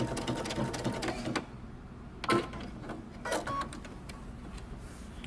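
A sewing machine back stitches at the end of a seam while attaching a pocket to the front of a men's button-up shirt. It sounds faint and close, with brief mechanical bursts and clicks over a low background.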